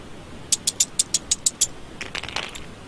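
A quick series of sharp, evenly spaced clicks, then a scattered clatter of dice tumbling on a surface during a Star Wars tabletop role-playing game, fairly faint and close.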